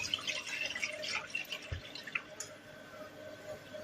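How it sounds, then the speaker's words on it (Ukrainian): Brine is poured over mackerel in a container, giving a quiet close trickle and a few soft drips and splashes that taper off after a couple of seconds, with no talking. "беремо нашу скумбрію і просто заливаємо цим розсолом"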